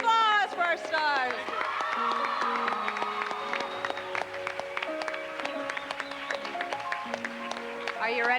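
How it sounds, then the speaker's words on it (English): Studio audience applauding and cheering for the show's stars as they are welcomed, a dense continuous wash of clapping with whoops, while an emcee's voice and music run over it throughout. "Big round of applause for our stars."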